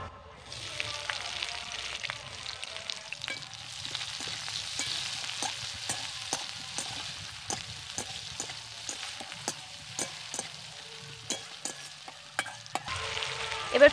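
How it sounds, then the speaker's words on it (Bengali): Chopped onions and dried chillies frying in oil for an okra and potato curry, a continuous sizzle under repeated sharp scrapes and taps of a spatula against the pan, close and fairly loud, with no talking. "এবার পেঁয়াজকে আমি ভালো করে ভেজে নেব।"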